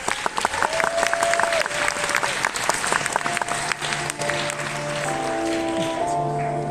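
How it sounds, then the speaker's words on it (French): A large crowd applauds a cosplayer at a cosplay contest final, a dense, steady wash of clapping with cheers, while some voices and music-like tones come in beneath it toward the end. "on applaudit bien fort Revenant."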